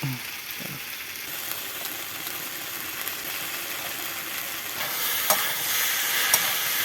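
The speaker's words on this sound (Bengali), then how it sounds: "সবজির মধ্যে এবার চিংড়ি মাছগুলো দিয়ে দিচ্ছি।" Prawns stir-fried with winter vegetables, cumin, coriander and chilli powder in a pan, with a continuous close sizzle and repeated scraping stirs that grow louder and more clattery toward the end.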